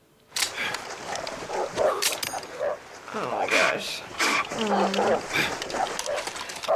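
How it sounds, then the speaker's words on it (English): A dog barks in the film No Country for Old Men, its yips and barks mixed under excited talk and reactions from people watching. "They have a dog coming after you too!"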